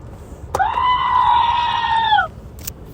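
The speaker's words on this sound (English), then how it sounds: "The goat understands what's going on." A goat lets out one loud, drawn-out bleat lasting nearly two seconds, close by and standing alone against quiet surroundings.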